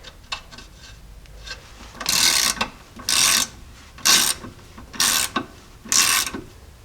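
A ratchet wrench tightening the nut on a Jeep Cherokee XJ rear shock, five close, loud bursts of rapid clicking ratchet strokes separated by short pauses, with quieter fiddling noises before them.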